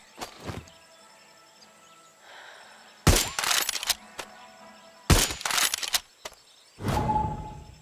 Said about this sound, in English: Is that gunfire? Yes! Yes, it is!